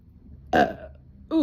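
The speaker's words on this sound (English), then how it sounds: "Confirmation burp" A single loud, close burp with a rough, voiced onset that fades over a fraction of a second, followed by the start of a brief spoken sound.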